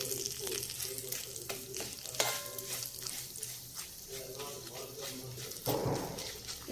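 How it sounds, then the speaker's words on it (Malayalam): Chili powder is stirred into hot oil for a Kozhikode-style mango pickle, a soft sizzle under repeated spoon scrapes and clinks against the pan, fairly quiet and close, with a louder burst of frying near the end. "ചൂടുള്ള എണ്ണയിലേക്ക് മുളക് പൊടി ഇട്ട് ഒന്ന് ചെറുതായി പച്ചമണം മാറുന്നത് വരെ ഇളക്കി കൊടുക്കാം."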